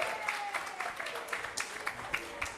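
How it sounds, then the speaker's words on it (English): Applause from an audience at a fundraiser in an opera house, a moderately faint crowd of scattered clapping with distinct individual claps standing out, continuing steadily for a couple of seconds. "Give the man a round of applause"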